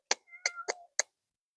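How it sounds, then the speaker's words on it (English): A cat, a kitty, gives four short, close meows in quick succession, with clear pauses between them and nothing else heard. "It's meowing."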